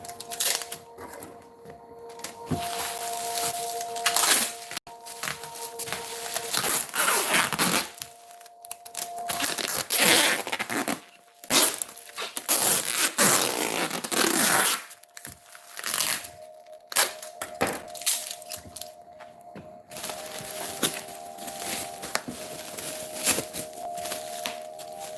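Tape is torn and pressed down by hand in a long series of sharp ripping, crackling and crinkling bursts with brief pauses, close by, under a faint steady hum.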